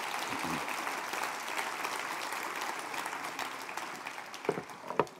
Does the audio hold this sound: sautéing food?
no